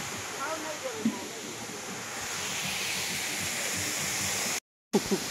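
Steady broadband rush of a waterfall at a scenic outdoor spot, constant and fairly loud throughout with wind buffeting, briefly cutting out near the end.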